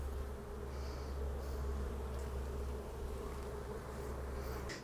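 Honeybees drone steadily around open hive frames full of brood and pollen during a colony split, a continuous, soft buzzing swarm close by with no talk.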